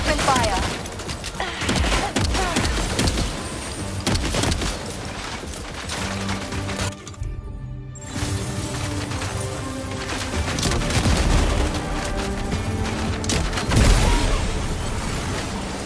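Loud, dense gunfire and booming blasts from a battle in the video game Death Stranding 2, sustained throughout with music and voices mixed in and a brief drop near the middle.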